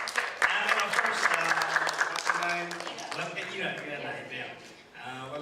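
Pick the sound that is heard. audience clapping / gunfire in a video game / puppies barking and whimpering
audience clapping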